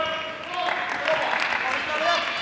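An arena crowd at a men's team table tennis World Cup match between England and Japan applauds steadily in a dense wash of clapping, with a commentator talking over it.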